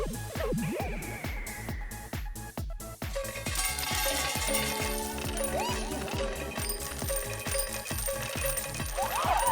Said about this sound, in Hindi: बहुत सारे सिक्के हैं।